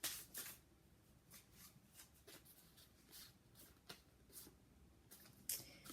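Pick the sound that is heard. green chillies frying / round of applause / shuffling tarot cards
shuffling tarot cards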